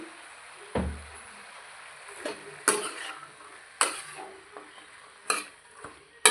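A spoon stirs tomato and tamarind in a cooking pot, sparse scrapes and sharp metallic knocks against the pot at irregular intervals over a quiet background.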